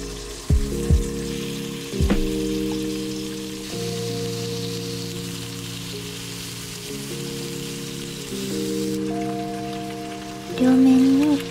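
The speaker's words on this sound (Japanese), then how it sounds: "パプリカはまんべんなく火が入るように押し付けながら焼きます。" Bell peppers searing in a frying pan while being pressed down, a steady sizzle with a few sharp utensil knocks near the start and a louder flare of crackling toward the end.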